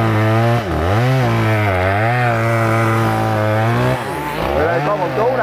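A chainsaw cuts a small tree stump up close, its engine whining loudly and revving with sharp pitch dips and climbs.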